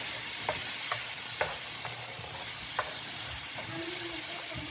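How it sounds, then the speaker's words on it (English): Peppers cooking in a pan with tomatoes, stirred with several light scraping taps spaced about half a second apart over a steady soft sizzle. "I'm just gonna stir this up and let that cook for 10 minutes"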